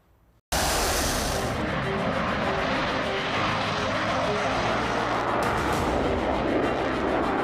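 A Rafale M naval fighter jet roars overhead, a sudden loud, continuous broadband rush that starts abruptly and holds steady for several seconds, close and dominating the scene.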